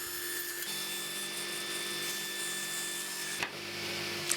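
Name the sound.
table saw cutting wooden staves at 18 degrees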